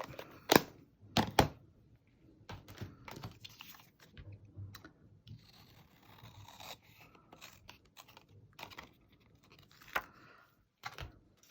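Paper for a stenciled card is trimmed, heard as a few crisp, close snips and cuts spaced irregularly over a quiet background, with light scraping and handling between them.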